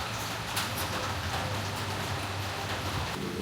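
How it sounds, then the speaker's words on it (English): Steady rain falls outdoors during a restoration of a one-owner 1967 Camaro, a continuous broadband hiss with light patter and a low hum underneath, holding at moderate loudness without voices. "now that the rain is letting up a little bit, might be easier to hear me"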